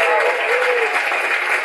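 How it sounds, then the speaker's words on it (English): An audience at a stand-up comedy monologue breaks into brief, dense applause, a steady wash of clapping that fills the moment at full volume. "Do you applaud for things that you don't think are a good idea?"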